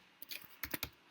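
A short burst of about four crisp keystrokes on a computer keyboard, close up and alone, with no voices.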